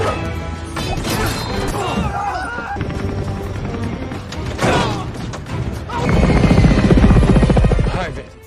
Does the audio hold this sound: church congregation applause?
no